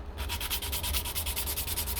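Quick, rhythmic back-and-forth strokes of sandpaper rubbing a 3D-printed Johnny 5 toy model kit arm, close and steady for a couple of seconds.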